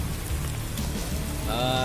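Heavy storm rain pours steadily near a large mosque in Panguragan as a tornado approaches, a dense continuous wash with wind noise and faint muffled voices underneath.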